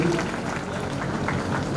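An audience at a retirement party for a school principal claps in a dense, steady burst of applause, with voices mixed underneath.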